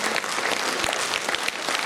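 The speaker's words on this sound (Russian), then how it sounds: "поднимитесь, пожалуйста, под бурные аплодисменты." A concert hall audience applauds, dense continuous clapping filling the room with no speech over it.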